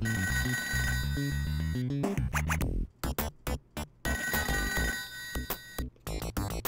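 Telephone ringing inside the Toejam & Earl video game, repeated electronic ring bursts layered over loud, busy game music with chopped gaps and sound effects throughout.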